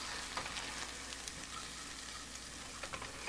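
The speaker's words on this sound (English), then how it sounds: "The sound and smell of crackling meat floated from outside the door." Meat crackles and sizzles softly in a steady hiss, with scattered faint pops throughout.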